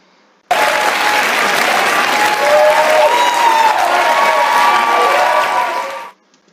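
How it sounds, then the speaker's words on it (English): A studio audience on the Dr. Phil talk show claps in a sustained, dense burst of applause that starts abruptly after a short silence and cuts off around six seconds, with no talk over it. "I'm going to go sit in the audience on the Philip show and clap for stupid shit like this."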